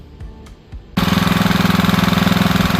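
A Hangkai 6 HP four-stroke outboard motor starts abruptly and runs loud and close, a fast, steady pulsing chug at a high idle.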